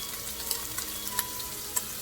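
Chopped shallot and pancetta frying together in a pan, a soft steady sizzle with a few light clicks of stirring scattered throughout, fairly quiet and with no talking.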